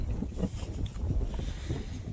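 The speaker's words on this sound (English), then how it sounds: "It's windy out here." Soft wind rumbles and buffets the microphone in a steady low wash, with no other clear sounds.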